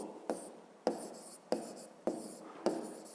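A math solution is written by hand in a 5th-grade exercise, heard as a series of close, soft scratchy pen or chalk strokes, five distinct bursts in a steady rhythm with pauses between.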